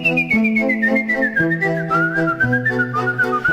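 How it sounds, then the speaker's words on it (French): A whistle sounds one long, clear, sliding tone that falls gradually in pitch and stays prominent over sustained low chords at an evening cultural event. "En ce qui concerne le sifflet ce soir"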